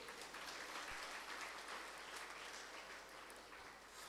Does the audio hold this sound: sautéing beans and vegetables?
no